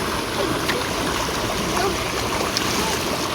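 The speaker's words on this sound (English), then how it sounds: "Yes, I splashed me wet." Steady rushing water with splashing, a continuous wet churn like a stream or surf, fairly close and without clear pauses.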